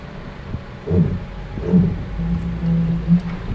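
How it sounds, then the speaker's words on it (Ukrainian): A Suzuki S-Cross all-wheel-drive system brakes wheels spinning in the air while the car rocks on two wheels, giving a low, uneven mechanical rumble and throbbing groans from the drivetrain, close by with no talking. "І оцей звук це система ж відпрацьовує, пригальмовує колеса, які в, прокручуються в воздусі."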